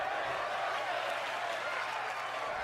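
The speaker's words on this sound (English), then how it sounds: "the crowd is amping up here in Vegas" A pro wrestling crowd in Las Vegas roars and applauds, a dense continuous wash of cheering and clapping that holds steady without a break.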